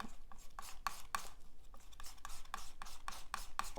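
Paint being mixed by hand for clouds or abstracts, blending blue into a chromatic teal, giving quiet, rhythmic scraping and rubbing strokes, about a dozen distinct swipes at an uneven pace, close and soft with no talking.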